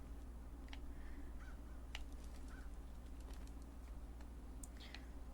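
Crows cawing in Fallout 4, several brief calls scattered over a steady low ambient hum, moderately distant and faint.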